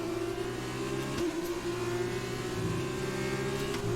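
Formula 2 car engine from F1 2020 on a fast lap at Silverstone, a loud, steady high-revving whine held close throughout, with a brief dip and gearshift partway through and no talk.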